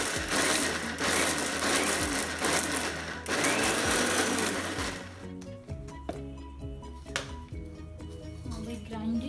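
A mixie jar grinds soaked lentils into a coarse paste with a loud, dense whirring roar. Midway through it eases into a lower, more uneven churn with rattles, and no one speaks.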